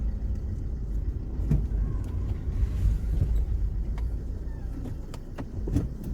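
A Mercedes Vito van turns a corner and then reverses, its engine giving a continuous low rumble with a few faint clicks and knocks over the drone, close by and without voices.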